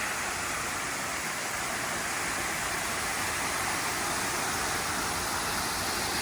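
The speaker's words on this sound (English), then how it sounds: "I should meet a weir. That's what I'm hearing." Steady broadband rush of water pouring over a weir on Lady Northcote Creek, a constant loud wash with no pauses and no voices.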